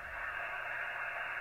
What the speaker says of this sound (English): That amount of white noise right there,